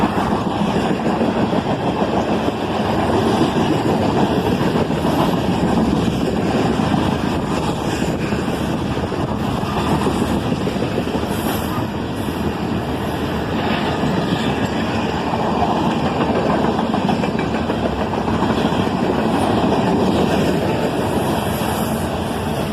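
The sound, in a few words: CSX freight train tank cars passing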